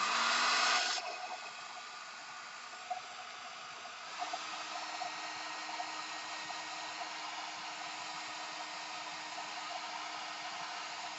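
A hair dryer blows a steady, loud airflow hiss to dry ink on craft rubber stamps, with a brief change in pitch as it is adjusted, then it runs continuously.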